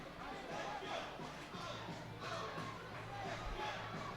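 Crowd murmur and scattered cheering at a minor-league baseball game between the Portland Sea Dogs and Reading Fightin Phils, a steady distant stadium wash with faint voices rising and falling.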